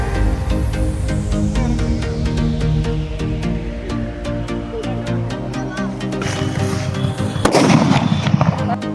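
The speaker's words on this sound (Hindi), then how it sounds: "हमारा हाइड्रा का बम, जो कि यह ग्रीन कलर का होता है और इसका आवाज भी बहुत ही ज्यादा तगड़ा होता है" Green Hydra bomb Diwali firecrackers bursting outdoors with loud, sharp repeated bangs in rapid succession, building to a heavier blast near the end.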